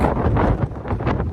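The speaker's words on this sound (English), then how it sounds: "it is windy as heck." Strong wind on a cruise ship deck buffets the microphone in loud, low rumbling gusts, with no voices.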